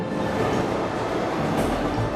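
A locomotive rumbles along in the video game Syberia II, a loud, steady roar of rail noise with a faint rhythmic clatter, close and continuous throughout with no voices.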